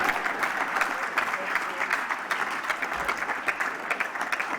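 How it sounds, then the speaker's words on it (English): Audience at a lacrosse hall of fame induction speech claps in a steady round of applause, moderately loud and alone, individual claps audible throughout. "You can clap."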